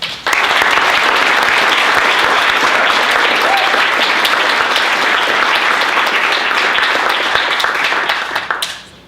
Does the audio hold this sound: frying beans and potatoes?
no